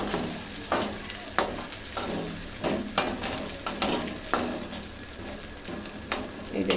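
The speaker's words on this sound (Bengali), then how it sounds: "দেখুন মরিচগুলো কিন্তু ভাজা হয়েছে" Red chillies frying in oil for Bihari chicken, a steady sizzle broken by a series of sharp stirring scrapes roughly every second, close and fairly loud with no talk.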